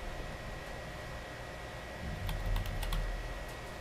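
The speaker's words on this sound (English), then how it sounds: "Now I can type a name for it." A burst of keystrokes on a computer keyboard as a name is typed, a quick cluster of close clicks over a steady hiss of background noise.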